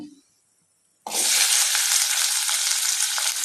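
Rice dry-roasting in a pan for a village-style fish curry: after about a second of near silence, a loud, steady crackling hiss starts and continues without a break, with no talking.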